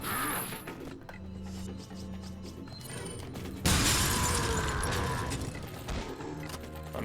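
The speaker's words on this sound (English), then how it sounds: "I'm smashing windows." In the Resident Evil 4 Assignment Ada mode, glass shatters loudly as windows are smashed, a sudden bright crash followed by tinkling debris over ongoing mechanical game noise.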